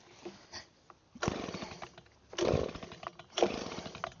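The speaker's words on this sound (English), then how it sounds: "Gonna go ahead and fire up our blower. Should take one pull, should fire right off." A STIHL 86C leaf blower is pull-started, giving short rough bursts of two-stroke engine noise that sputter and rise at close range, several attempts in a row with brief dips between them.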